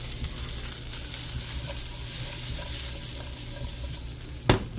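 Meat for burnt ends sizzling steadily in a hot pan, a constant crackling fry with faint pops, then a brief louder clatter near the end.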